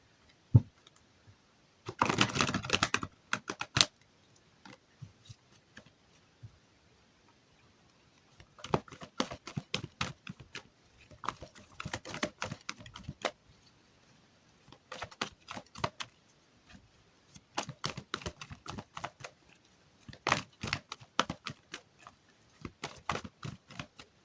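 Tarot cards are shuffled by hand in short bursts of soft, papery riffling and flicking, separated by quiet gaps, close and fairly faint, with no talk.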